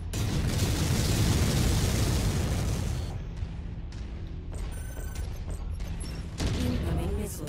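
An incoming missile explosion in a video game, a loud sustained blast and rumbling debris for several seconds that fades into quieter mechanical noise, followed by a smaller second burst.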